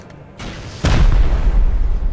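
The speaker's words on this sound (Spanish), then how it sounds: "¿Cuántos cohetes llevan esos pedazos de enfermos, tío?" Rocket explosion in the survival game Rust: a quieter rumble, then one loud, close boom that trails into a sustained heavy rumble.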